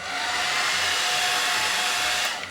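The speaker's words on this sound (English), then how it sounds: "you want to be quite quick with the hair dryer" A hair dryer blowing on glue applied to a wig, a loud, continuous airy whoosh with a steady motor whine, running throughout before cutting off at the end.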